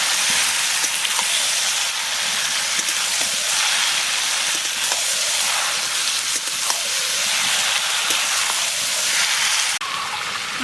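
Mutton pieces sizzle steadily in hot oil with softened onions, a continuous close hiss of frying that holds at an even level throughout, with no voices over it.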